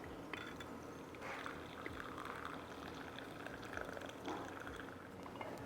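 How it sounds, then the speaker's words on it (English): Steeped tea pours from a Johann Haviland Blue Garland teapot into a cup, a soft continuous trickle with small splashes, close and quiet with no talking. "my tea should not steep very long today because of the type of tea it is, so I'm going to go ahead and pour that up"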